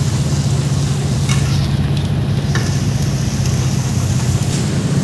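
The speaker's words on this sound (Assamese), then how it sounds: "এইটো যেতিয়ালৈকে ব্ৰাউন কালাৰৰ ফ্ৰাই কৰি ল'ম আমি" Mixed vegetables with diced onion, capsicum and chili fry in a pan, giving a loud, continuous sizzle with faint stirring scrapes, close and steady with no talking.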